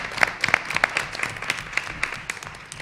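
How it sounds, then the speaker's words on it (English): Applause at a school board of education meeting honoring a high school student, a few seconds of scattered, moderately close hand clapping from a modest audience that thins out toward the end. "Let's give Tricia a round of applause."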